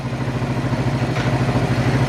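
A free ATV quad sits idling, its engine running with a steady low putter and slight irregular sputtering, close and continuous with no talk over it.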